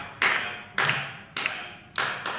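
Four evenly spaced hand claps, close and moderately loud, each a sharp broadband burst with a short decay, played as a slow steady clap-and-rest rhythm during a bodhrán lesson.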